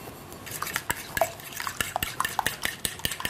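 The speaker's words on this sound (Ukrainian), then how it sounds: "Щоб не утворювалися грудочки, потрібно постійно помішувати до загустіння." Hot milk with eggs being stirred for custard ice cream at home, a utensil clinking and scraping against the pot in steady, close strokes with sharp metallic taps and no voices.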